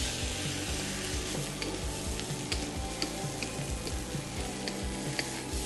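Egg fried rice tossed in a hot wok, soy sauce sizzling and burning off the edge, with scrambled egg through the rice. A loud, continuous sizzle and fry with repeated scraping tosses and small ticks throughout.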